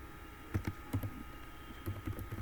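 Fingers tap out a short run of keystrokes on a computer keyboard while editing text in Vim, quiet and close, with a few distinct clicks in uneven rhythm.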